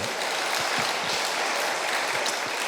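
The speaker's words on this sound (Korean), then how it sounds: "이럴 땐 박수라도 한번 해야지" A church congregation claps during a televised sermon. The applause is short and moderately faint, a steady wash of hand claps lasting under three seconds.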